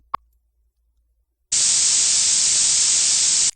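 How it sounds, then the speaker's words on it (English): Kid Pix Studio Deluxe plays a white noise effect after a short click: two seconds of flat, loud, steady static hiss that begins abruptly and cuts off sharply. "just straight up white noise"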